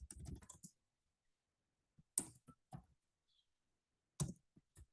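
Someone types code on a computer keyboard in short bursts of close, crisp key clicks, separated by quiet pauses, with no talking.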